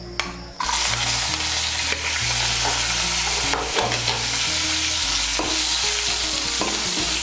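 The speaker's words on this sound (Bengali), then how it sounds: "রসুন কুচিটাকে একটু লাল করে ভেজে নেব।" Cumin and chopped garlic fry in hot oil in a pan, a loud, steady sizzle broken by repeated scraping knocks of a spoon stirring, close up and with no talking.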